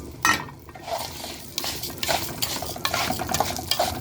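Rice going into a pot of browned orzo (lisan al-asfour) and stirred, with scraping spoon strokes against the pot and a light sizzle, close and fairly quiet, coming in irregular bursts.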